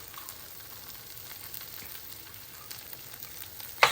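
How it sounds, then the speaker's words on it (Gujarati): Corn flour roasting with other ingredients for Punjabi-style sarson ka saag (mustard greens) in a pan, a steady soft sizzle and frying hiss throughout, close and moderately quiet, with a brief louder scrape or stir at the very end. "So I'm going to roast the corn flour with all the ingredients."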